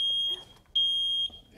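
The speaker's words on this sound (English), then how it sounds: "it just shows how quickly the smoke detector goes" A smoke alarm shrieks in piercing high beeps, pulsing on and off in long bursts, with faint background voices and movement underneath.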